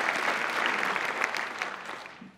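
Audience at a film festival opening night claps steadily and fairly loudly, a dense wash of hand claps that tapers off at the end.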